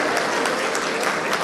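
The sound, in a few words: audience applause at a mushaira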